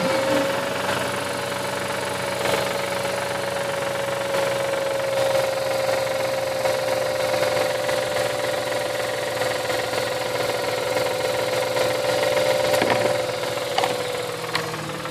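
A 2004 Mazda RX8 rotary engine idling steadily at close range, a continuous even drone with a faint humming tone and light mechanical knocking underneath, unchanging and without talk.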